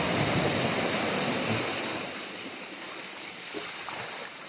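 Sea waves wash against the shore at Samal Island, a broad steady rush of surf that is loudest at first and then eases into a softer continuous wash, with no talking.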